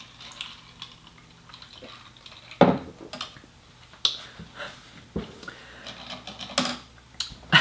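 A Dirty Shirley mocktail with grenadine being stirred in a glass, with sparse clinks and taps of a spoon against glass over a quiet background.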